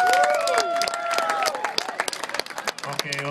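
Crowd at a car show engine revving contest applauding and cheering for the 55 Gasser, a dense roar of clapping and shouts that thins into scattered claps and calls near the end.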